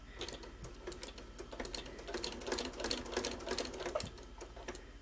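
A sewing machine stitches through a quilted Valentine project in a steady run of rapid needle strokes, close and fairly quiet, with no talking over it.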